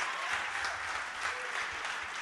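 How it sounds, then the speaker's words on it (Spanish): A studio audience at a television show applauds the students, a steady, dense wash of clapping filling the whole stretch at an even level. "Aplausos a los estudiantes"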